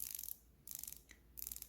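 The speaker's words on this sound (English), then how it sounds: "The bezel has a really nice buttery smooth action." Quiet ratcheting clicks from the rotating bezel of a Seiko Orange Monster SKX781 dive watch come in three short bursts of rapid ticks, close and faint.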